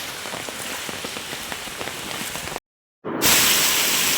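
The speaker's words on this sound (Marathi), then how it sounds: "जोरदार पाऊस पडतोय हे बघा" Heavy rain pours steadily in a dense, loud hiss, cuts out briefly near the end, then returns even louder and closer.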